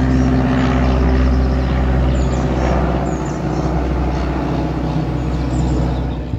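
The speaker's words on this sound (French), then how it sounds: "je trouvais plutôt sympa de vous montrer cet avion" A small propeller airplane flying overhead above a garden, sometimes doing loops, a loud continuous droning engine hum that holds steady throughout and fades slightly near the end.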